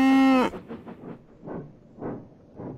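A cow gives one loud, drawn-out moo, followed by quieter rhythmic chugging and hissing like a nearby steam train.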